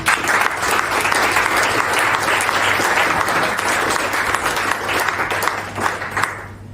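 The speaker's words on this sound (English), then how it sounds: "please put a big round of applause for Mark Rolston" Conference audience applause rolls steadily through a large room, a loud continuous texture of many clapping hands with a low steady hum beneath, fading slightly at the very end.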